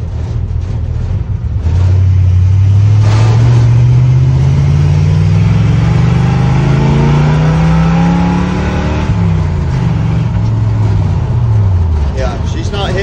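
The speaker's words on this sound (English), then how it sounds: "This is a running little truck." A running 1953 International truck engine revs close and loud, climbing in a long, smooth rise, then dropping back and climbing again briefly near the end.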